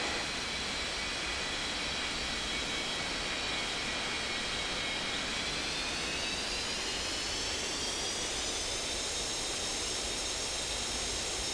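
A jet airliner taking off in the Unmatched Air Traffic Control game, a steady loud engine roar and hiss with a slowly rising whine, continuous and unbroken, no voices.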